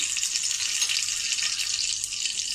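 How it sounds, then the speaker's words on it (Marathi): Mustard seeds crackle and sizzle in hot oil for a tempering. The bright, fizzing sizzle is close and continuous, with small pops throughout and no voices. "तेल तापलं की त्यानंतरच आपल्याला फोडणीमध्ये राई टाकायची आहे।"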